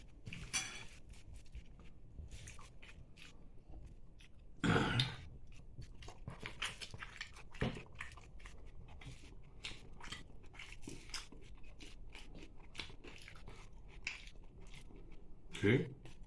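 Someone eats luchi with fried brinjal, with soft, close chewing and biting and a few louder crunchy bursts over a quiet room background.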